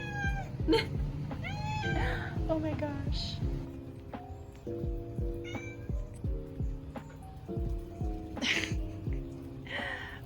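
Several cats meow repeatedly outside an apartment, a mix of rising, drawn-out cries close by, while someone talks softly over them and a steady low hum runs underneath.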